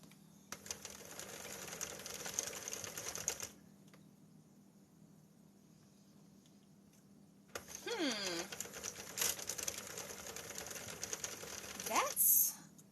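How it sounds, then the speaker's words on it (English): A 48-pin Sentro knitting machine clatters in two bursts of dense rapid clicking, the first about three seconds long and the second about four, separated by quieter stretches, with a short squeaky whistle near the end. "This is a 48-pin Sentro Knitting Machine."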